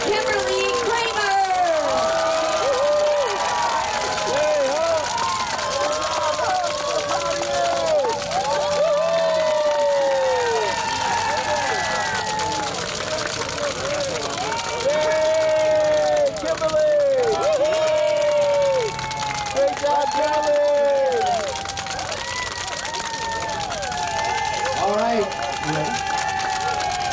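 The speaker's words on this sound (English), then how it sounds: "I'm gonna call your name and everybody cheer for you" A crowd at a February 2024 event cheers and shouts loudly and continuously as names are announced, with a voice talking over the steady roar.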